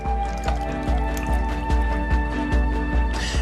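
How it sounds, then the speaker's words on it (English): Flan custard mixture poured into a cake pan over a layer of caramel: a wet, thick stream with soft glugs and repeated drips, heard close over steady background tones. "Next, pour the mixture into the cake pan on top of the caramel."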